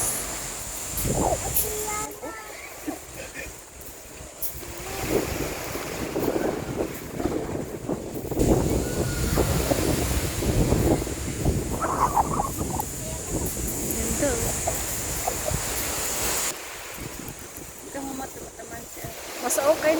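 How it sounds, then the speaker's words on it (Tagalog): Strong ocean waves at a beach in Puerto Galera wash and surge steadily under gusty wind buffeting the microphone, with people talking nearby throughout. "Ang lakas ng alon."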